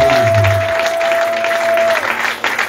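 Applause from a convention crowd fills the space with a dense, steady patter of clapping that continues throughout, close and loud.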